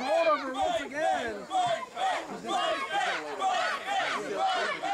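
A wrestling crowd at a live horror-themed indie show chants and cheers in loud rhythmic bursts, many voices rising and falling together in waves.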